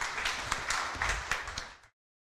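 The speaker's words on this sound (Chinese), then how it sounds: "所以我们现在就用掌声来欢迎我们今天的主讲者赵公业执行长" Audience applause welcoming the main speaker at a public talk on climate change and peace, a steady dense wash of many hands clapping for about two seconds before cutting off.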